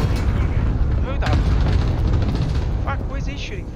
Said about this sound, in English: Cluster strike coming in.